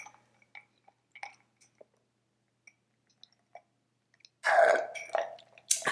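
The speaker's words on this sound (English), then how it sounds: "I'm actually gonna take a sip of my coffee." Someone sips hot coffee up close, faint quiet clicks and small mouth sounds leading into a louder wet slurp and gulping swallow near the end, no speech.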